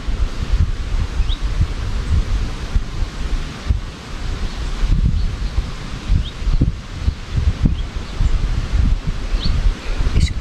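Wind rushes past a rider on a GS750 motorcycle traveling through English countryside, a loud, gusty buffeting roar pulsing irregularly with little engine tone distinguishable.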